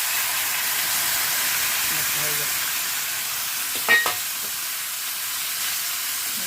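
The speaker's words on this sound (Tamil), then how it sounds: "மஞ்சள் தூள் போட்டு நல்லா வதக்கிட்டு" Yellow pumpkin sautéing with turmeric powder in a pan gives a steady, close sizzle and hiss, with one brief clink of a utensil partway through.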